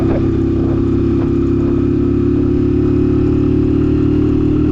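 A motorcycle engine running steadily while riding at around 4000 rpm, a loud, constant close-up drone with no breaks.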